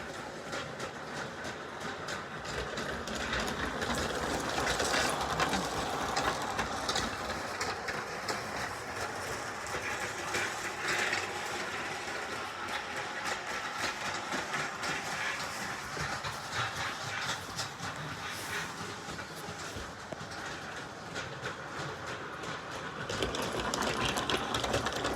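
A Bachmann G scale Thomas-themed model train pulls troublesome trucks along the track, with a continuous rolling rumble and rhythmic clickety-clack of wheels, fairly close and steady throughout without speech.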